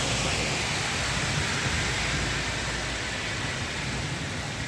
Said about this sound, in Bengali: অনেক বৃষ্টি হইতেছে